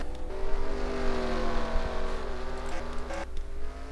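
A race car moving down the pit lane during the 24 Hours of Sebring, its engine holding a steady, rising drone with clear harmonic tones, then a brief shift midway, at moderate distance with no talk.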